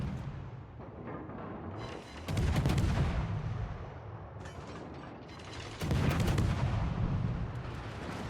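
Guns of a Huron, a tier seven Commonwealth destroyer in World of Warships, fire in two heavy booming salvos with rolling mechanical clatter between them over a constant low engine drone.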